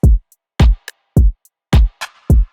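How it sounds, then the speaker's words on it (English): Percussion and shaker in an FL Studio beat: booming, decaying low hits land at a steady pulse, each paired with crisp, bright shaker ticks and snappy percussive clicks between them, and no voices. "Then I added just a perk and shaker."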